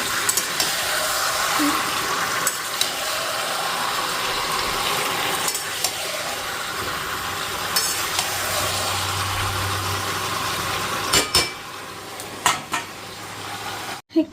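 Curry of potato, tomato, green chili and meat stirred with a spatula in a pan, a steady close sizzle and scraping running throughout with occasional knocks, a low hum underneath.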